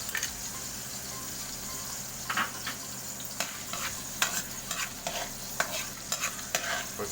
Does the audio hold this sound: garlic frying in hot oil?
yes